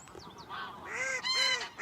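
Several goose-like honking calls, clear and fairly close, coming one after another with short pauses, in the manner of a call recording played at a hunting hide to draw game birds to decoys.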